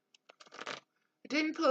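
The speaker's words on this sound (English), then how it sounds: "you're going to hear me doing the shuffling now of this" Oracle cards being shuffled by hand, a few soft papery riffles and flicks up close, followed by a voice speaking.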